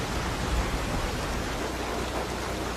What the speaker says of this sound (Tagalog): ano ang itsura ng ulan ngayon habang bumabagsak?